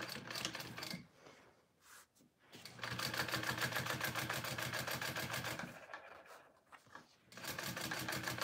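A sewing machine stitching a tote bag, running in rapid, even mechanical bursts of a few seconds each, separated by short pauses.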